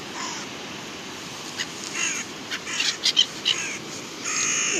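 A flock of crows caws by the sea, with a cluster of loud, harsh caws rising over steady surf and ambient wind noise.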